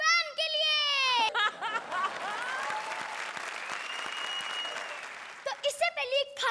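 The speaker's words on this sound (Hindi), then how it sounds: "तो जोरदार तालियां हो जाए सलमान खान के फैन के लिए" Studio audience applause on a Comedy Circus television comedy show rises as a broad wash of clapping and cheering, bracketed by bright voices speaking and shouting at the start and end.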